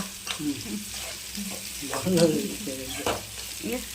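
Cumin and mustard seeds fry in a pan in a home kitchen, with a steady close sizzle and intermittent popping and stirring clatter.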